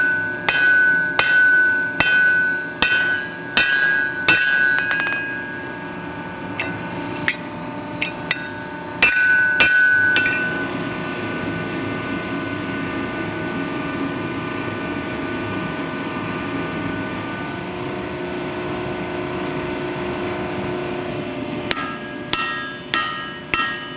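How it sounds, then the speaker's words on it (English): Sharp metallic hammer strikes ring out in fast bursts, forging an axe's lugs around a drift, pause for a stretch of low rumbling hum, then resume with another quick series of blows. "We're gonna hammer down these lugs tight around the drift."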